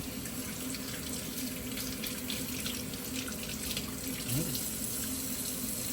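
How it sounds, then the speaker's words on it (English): Tap water runs steadily into a sink while fresh thyme is washed, a constant close hiss of flowing water with no talking. "I want to wash off my thyme"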